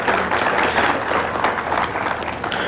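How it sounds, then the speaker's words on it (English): Festival crowd at Aki Matsuri 2019 claps for the Boy Scout troop and volunteers, a continuous wash of applause holding steady throughout. "let's give a round of applause to the Boy Scout Troop number 1974 and all of the volunteers"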